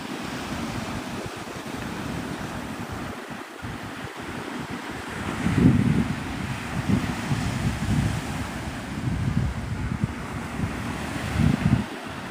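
Waves break and wash ashore at Navarre Beach, Florida, at sunrise, with steady wind buffeting the microphone and loud surges of surf rising every few seconds.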